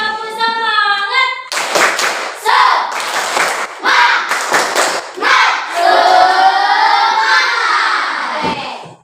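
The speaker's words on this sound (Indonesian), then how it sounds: "Sekali lagi, yang keras. Semangat, tepuk semangat." Indonesian schoolchildren repeat a patterned spirit clap more forcefully, crisp grouped hand claps ringing out in a classroom alongside loud chanted voices and a trailing shout.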